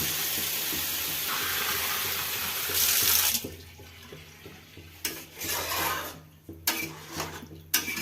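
Water runs steadily into a pot of sautéed potato curry for about three seconds, then gives way to quieter bubbling, clinks and handling noises.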